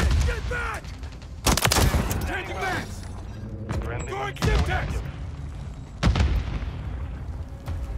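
In Modern Warfare III multiplayer, a grenade blast and bursts of gunfire crack loudly in several sharp bangs spread across the scene, while players shout and talk over the combat.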